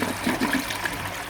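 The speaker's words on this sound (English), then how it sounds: "I still feel like I should do another flush like that again." A 1957 blue Universal Rundle toilet flushes with a steady rushing, gurgling swirl of water, heard close up and on its own with no talking.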